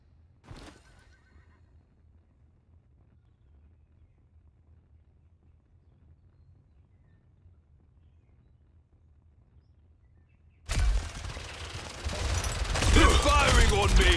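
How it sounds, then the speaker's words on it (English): Enemies firing guns in the Paladins hero shooter: after a long near-silent stretch, a loud, dense volley of gunfire and combat noise erupts, with a horse-like whinny tangled in the din. "They're firing on me!"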